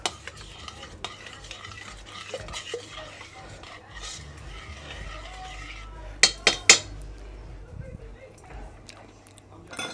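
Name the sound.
stirring roast beef juices in a pan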